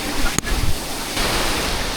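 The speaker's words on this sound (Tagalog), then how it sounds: "Napakalakas ang alon!" Strong ocean waves surge at a beach in Dingalan, Aurora, a loud rushing roar of surf with wind buffeting the microphone and a brief thump early on.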